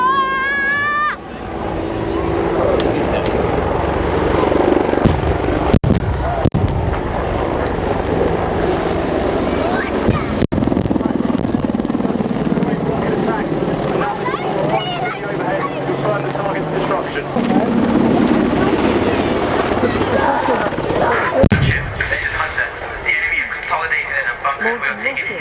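A British Army attack helicopter from the Attack Helicopter Force flies a display at the 2015 Cosford airshow, its loud, steady rotor and engine roar filling the air while public-address commentary carries on over it.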